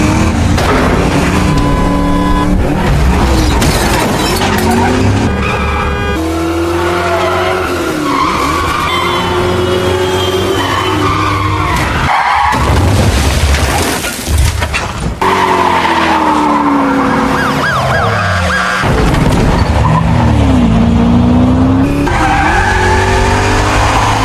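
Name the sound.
car chase with skidding tires, movie scene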